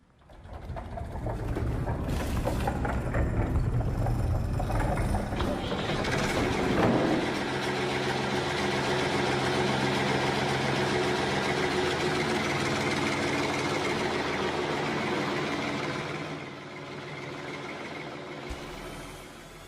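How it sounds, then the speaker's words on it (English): A John Deere tractor's engine idles loudly and steadily at close range, with a burst of air-like hiss early on, then a lower drop in level near the end; no talk. "I thought I was going to get hit by that tractor."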